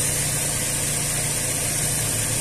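Ford Rocam Zetec 1.6 8-valve engine idling steadily at about 775 rpm, a continuous low hum and mechanical drone with even level throughout, no talk over it.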